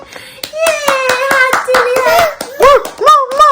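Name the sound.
hands clapping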